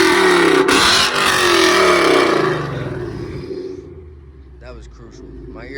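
Ford Mustang fitted with BORLA Attack catless headers, a loud close revving roar that falls away to a lower rumble, with a voice talking over the end.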